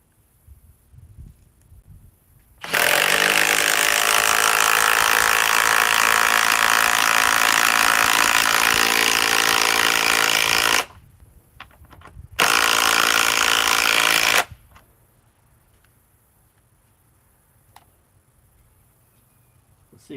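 A power tool drives a chrome socket in a heat test, with a loud, steady high-pitched whine running about eight seconds, a brief stop, then a shorter second burst, and quiet handling noises before and after.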